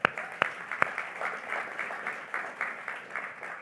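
An expo panel audience at Bild Expo 2025 applauds. A few sharp, close claps ring out first, then settle into steady, moderate clapping from the room.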